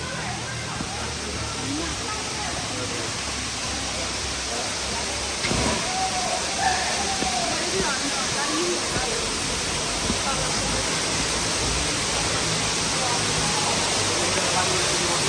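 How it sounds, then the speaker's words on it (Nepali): Crystal Shower Falls in Coffs Harbour roars as a steady, dense wash of falling water, close and constant throughout, with voices faintly mixed in at times. "ओए झर्ना खतरा छ"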